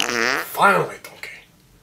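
Comedic fart sounds in a bedtime scene from a Baby Shrek puppet skit, two or three short bursts under and between an adult's loud scolding voice.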